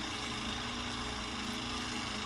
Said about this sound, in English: you've got your neighbor and they're mowing the lawn at a really bad time.